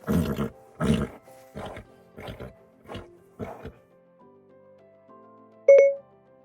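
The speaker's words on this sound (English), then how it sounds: "A horse sounds like this." A horse whinnies in a loud, pulsing series of about six bursts that weaken as they go, then falls quiet before a short electronic chime.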